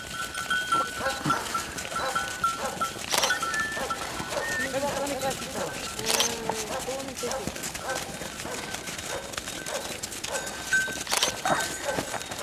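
Aleppo goats on a farm in Mudurnu, moving about with scattered bleats and hoof clatter close by, while people talk over them.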